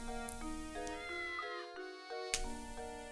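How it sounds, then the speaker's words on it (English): A cat from Professor Layton and the Curious Village gives a few clear, drawn-out meows that rise and fall, close and fairly soft, over a quiet tonal game background. "Lady Dahlia's cat has escaped."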